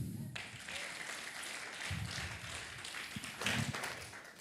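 A church congregation applauds during a sermon at a revival service, a moderate, somewhat uneven rush of clapping with faint low rumbling and a brief louder swell near the end.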